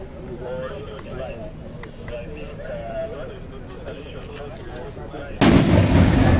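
A controlled explosion disrupts an IED during a security simulation exercise, bursting loud and sudden near the end after a stretch of busy outdoor background noise.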